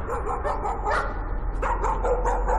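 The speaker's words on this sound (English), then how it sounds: "Dog!" Dog barking in the horror video game Layers of Fear, a run of yips and bow-wow barks with a whimpering edge, close and fairly loud over a low steady hum.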